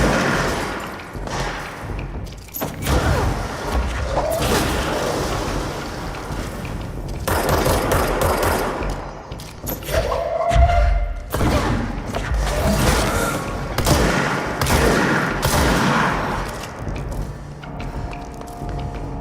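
Shotgun blasts in the action video game Control, with repeated heavy booming shots and impacts over a dense, continuous game soundscape, loud and close throughout.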